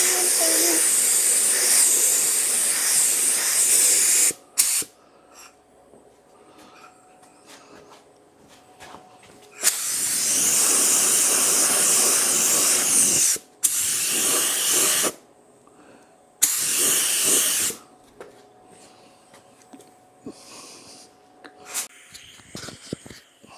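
A spray gun lays a paint coat on a Harley motorcycle part in loud hissing bursts, several sustained blasts separated by quieter gaps with faint background sounds.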